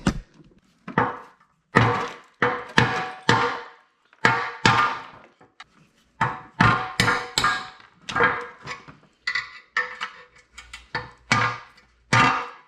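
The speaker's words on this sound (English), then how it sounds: "Gonna pop those rivets out." Hammer or punch blows knocking rivets out of a wrecked Jaguar S-Type R body panel, a rapid series of sharp, loud metallic taps in irregular bursts, close by with short pauses between groups.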